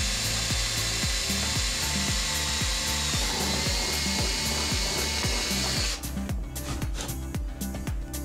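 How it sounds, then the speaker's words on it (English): A power drill fitted with a larger bit bores a hole for a seat installation, the motor whining steadily for about six seconds before the tone drops, with rhythmic knocking throughout and no talking. "I'll get my larger drill bit and we'll go ahead and get this hole drilled"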